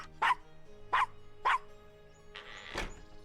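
Castro, a dog in the PC game Gabriel Knight: Sins of the Fathers, gives three short, evenly spaced barks, followed by a brief thump.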